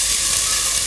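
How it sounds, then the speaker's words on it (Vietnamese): Garlic stir-fried in a hot pan until golden gives a loud, steady, dense sizzle that hisses without a break, with no voices over it. "mình sẽ xào cái tỏi này trước để cho nó vàng vàng như đó"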